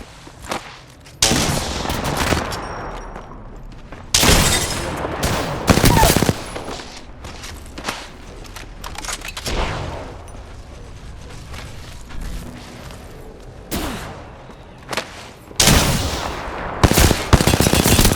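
Gunfire in the Apex Legends video game, loud bursts of automatic fire arriving in several separate volleys with quieter gaps between, close and harsh.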